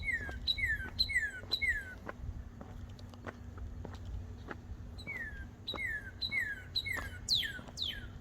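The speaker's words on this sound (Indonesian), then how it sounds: "suara burung enak didengarnya" Small birds sing repeated bright, descending chirps in bursts, fairly close, over faint outdoor background noise and occasional light taps, along a village road in the United States.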